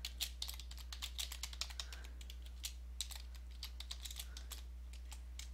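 Typing on a computer keyboard while entering payer name and company address into check-processing software, a steady run of close, crisp key clicks in uneven bursts over a low electrical hum, with no talking.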